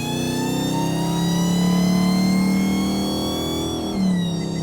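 A 1,000-horsepower Hellcat Charger gives off a loud, steady high-pitched supercharger whine layered over the engine note, the pitch holding, then dipping briefly as it shifts near the end.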